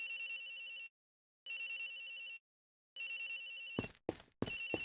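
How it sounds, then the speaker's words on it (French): A telephone rings in the Ace Attorney Investigations video game, three bursts of a bright electronic ring separated by short silences, with a few clicky interface blips near the end, no one talking. "Le téléphone de l'agent X? Il sonne quelque part, monsieur."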